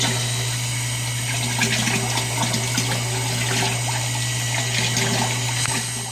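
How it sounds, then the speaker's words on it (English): Air bubbling steadily through used cooking oil mixed with gasoline in a container while preparing biodiesel, a continuous gurgling wash over a constant low pump hum, close and even, with no talk. "Just get a little more bubblies going on in there."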